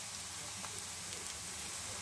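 Green chilies dropped into a hot pan for shahi paneer, a steady soft sizzle of frying oil with faint crackles, continuous and fairly quiet.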